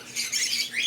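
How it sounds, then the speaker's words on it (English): Baby lovebirds give thin, high, squeaky calls in a soft continuous chatter lasting under a second, heard close and without talking. "Hey guys, look in there. 6 little lovebirds."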